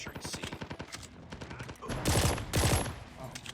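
Rapid bursts of gunfire from a Call of Duty Mobile match: a steady rattle of shots in the first half, then two louder, denser bursts close by near the end.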